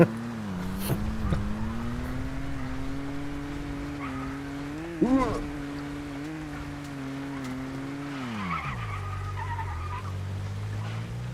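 A car driven in Once Human runs with a steady, moderate engine drone that revs up sharply around the middle, then drops to a lower pitch near the end, heard alone without talk.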